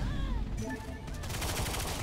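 Gunfire in the video game Lawbreakers breaks out in a rapid, dense burst of shots after a brief moment of electronic tones.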